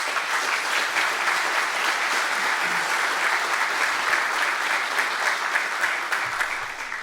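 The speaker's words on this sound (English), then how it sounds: "If we could give them a round of applause" An indoor audience at a university building ribbon-cutting ceremony claps steadily for several seconds, a dense, even round of applause that tapers slightly at the end.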